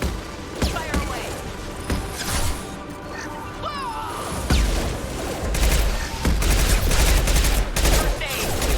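Mass Effect 2 combat erupts in repeated bursts of sci-fi gunfire, sharp cracks and impacts at close range, with rattling automatic volleys building and growing denser toward the end while voices call out amid the shooting.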